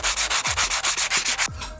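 Floor tiles on a staircase being sanded, a rough abrasive rubbing in about nine quick, even strokes, loud and close, then stopping near the end with no talk.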